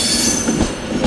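A Northern service train rumbles into Manchester Piccadilly station, loud and close, its wheels squealing over steady rolling rail noise through the whole brief moment.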